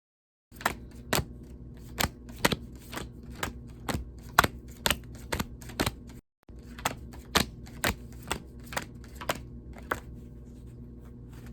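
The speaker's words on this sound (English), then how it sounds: "gather up the sign cards, shuffle and draw one" Zodiac oracle cards are handled and shuffled in a steady series of sharp taps and snaps, about two per second, close and crisp, with a short pause midway.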